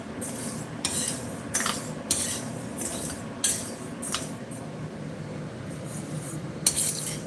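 Rice is stirred while it dry-roasts in a pan, with a steady gritty scraping under repeated sharp metallic clinks of the utensil against the pan, spaced irregularly and close by.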